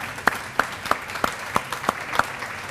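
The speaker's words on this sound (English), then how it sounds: "So let's give them all a big round of applause" Sparse applause from a small audience at a retirement tea, a handful of separate, evenly spaced claps rather than a full ovation, fairly faint.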